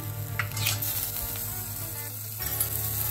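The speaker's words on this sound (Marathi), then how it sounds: "हे लसूण आणि आलं आहे ते परतून घेऊया." Chopped garlic and ginger sauté in butter in a pan while making vegetable soup, giving a steady, close sizzle with light stirring scrapes throughout.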